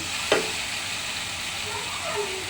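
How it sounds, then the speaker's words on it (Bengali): Garlic paste dropped into a pan of already fried ingredients sizzles steadily in a broad, close hiss, with a brief sharp crackle near the start and no talking. "সবগুলো উপকরণ ভেজে নিয়ে এর মধ্যে দিয়ে দিবি রসুন বাটা"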